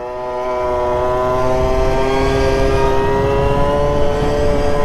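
A Suzuki Super Zuma motorcycle engine revs to nearly 9,000 rpm and holds at a high, steady pitch, a loud continuous whine with strong harmonics and no talking.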